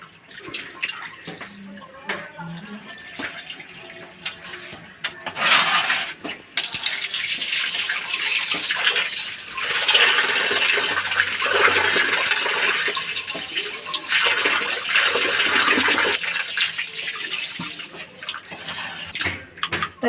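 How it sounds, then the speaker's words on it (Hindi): Fish is rinsed under an open kitchen tap: after some quiet handling and drips, water gushes steadily for over ten seconds, splashing over the fish in a sink before easing back to trickles and light clatter. "हमने मछली को अच्छे तरीके से धो लिया है।"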